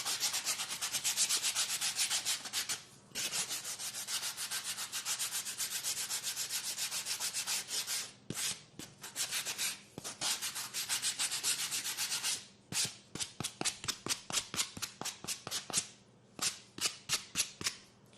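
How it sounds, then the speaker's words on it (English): Sandpaper rubbing rough edges off a rat taxidermy form, a close, loud continuous scratchy hiss that breaks into quick, rhythmic short strokes toward the end, with no speech. "So the first thing we're going to do is sand off our rough edges."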